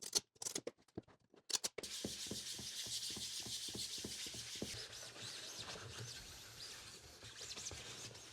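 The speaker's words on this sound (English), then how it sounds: "I started off by sanding everything with 320 grit sandpaper." A 3D-printed plastic part being sanded with 320 grit sandpaper, opening with a few sharp scuffs, then settling into continuous close, rhythmic rubbing strokes that stay steady and fairly quiet.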